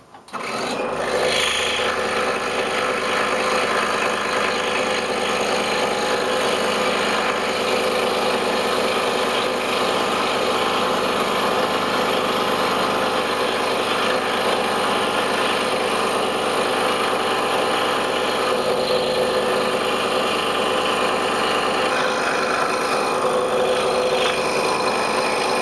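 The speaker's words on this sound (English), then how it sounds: "Now over to the scroll saw." Scroll saw cutting a circle out of wood for a woven bowl, a steady continuous buzzing rasp of the fine blade that runs loud and unbroken throughout, with no talking.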